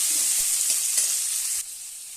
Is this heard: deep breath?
no